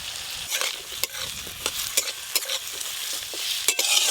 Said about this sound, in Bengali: সব মশলা দেখছি আগে ভেজে নিচ্ছে